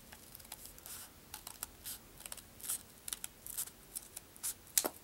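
Scissors snipping through folded paper while cutting a snowflake, a string of quick, crisp cuts in irregular clusters, close and fairly quiet, with no talking.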